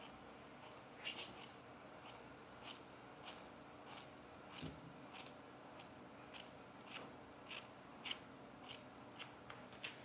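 Scissors snipping through quickweave hair extensions in a layered haircut, giving a steady run of quiet, crisp cuts spaced about a second apart, close and soft, with no talking.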